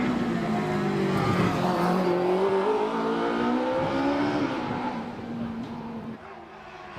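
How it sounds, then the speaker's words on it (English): A Silver Riot rear-engine kit car powered by a 1-litre bike engine at a hillclimb revs loudly and climbs through its gears, the high-pitched engine note sustained for several seconds before easing off, with commentary underneath. "This is the Silver Riot with its 1-litre bike engine"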